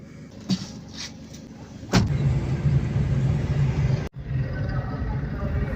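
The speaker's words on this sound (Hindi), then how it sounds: "गाड़ी निकल रही है" A car pulling out and driving off on an Eid al-Fitr morning in Mirpurkhas, a door thud followed by a steady engine and road rumble close by.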